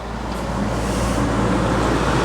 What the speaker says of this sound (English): that f***ing truck, your damn truck